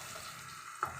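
Chopped onions frying in a pan, a faint, steady sizzle with a brief louder crackle near the end, no one speaking.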